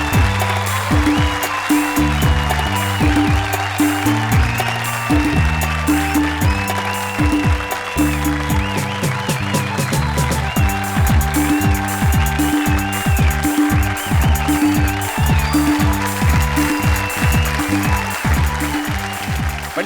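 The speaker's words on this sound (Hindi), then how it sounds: "जोरदार तालियां पंडित विश्वेश्वर शर्मा के लिए" An audience applauds Pandit Vishweshwar Sharma at a stage event, sustained steady clapping alongside a repeating rhythmic musical beat throughout.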